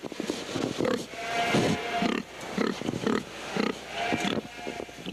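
A pig in a livestock barn at a state fair, grunting and snorting loudly and close by in repeated bursts, with busy barn noise around it.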